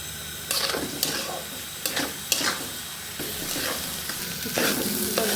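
Soaked rice for khichuri is stirred and fried in a pan, with a constant close sizzle broken by several sharp scraping strokes at irregular intervals.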